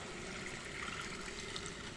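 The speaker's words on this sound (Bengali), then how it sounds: "এখানে কিছু পরিমাণ পানি দিয়ে দিচ্ছি" Water being poured into a cooking pot of tilapia heads with Malabar spinach, making a faint, steady trickling rush that runs evenly for about two seconds with no voices.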